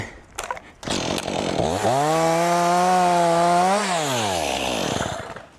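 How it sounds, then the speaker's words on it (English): A chainsaw revs up and holds a steady, loud whine as it bites into a dead pine tree, then the pitch drops and winds down. "Anytime we hear chainsaws and stuff"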